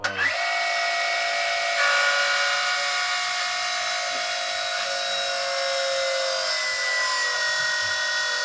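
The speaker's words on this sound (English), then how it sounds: "I'll turn the pump on and we'll just prime it and just see if any of them leak" An electric fuel pump runs steadily to prime the fuel injectors on a blown-up Hemi engine, a loud continuous high whine that holds nearly unchanged throughout, with no talk over it.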